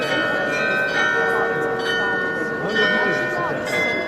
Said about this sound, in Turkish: bu 30 çan her biri ayrı melodi çalıyor